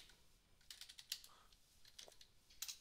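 Quiet, close typing on a computer keyboard, irregular bursts of light key clicks with short pauses, no talking.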